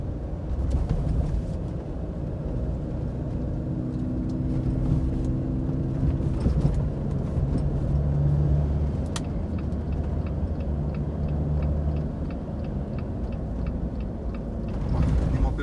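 A 2020 Jeep Rubicon JL with a 2000cc turbo engine and Corla exhaust drives along with a steady low engine drone and road rumble, a person talking over it, and occasional clicks and ticks.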